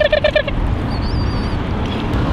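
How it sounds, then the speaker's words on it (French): A very young baby pigeon gives four quick squeaky peeps in a row, followed by thin, faint high whistles over a steady background hiss. "Non mais c'est quoi ce pigeon?"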